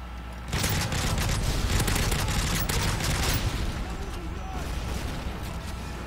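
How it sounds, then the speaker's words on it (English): A sentry gun firing in the video game Modern Warfare 3, a dense rapid burst of automatic gunfire that starts suddenly and rattles on continuously, close and loud. "this sentry gun is awesome"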